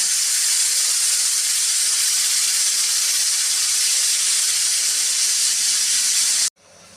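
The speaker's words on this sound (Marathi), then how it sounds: "दोन शिट्ट्या काढून घेऊया" A pressure cooker with peas for amti on the stove lets out a loud, continuous hiss of escaping steam close by, which cuts off abruptly just before the end.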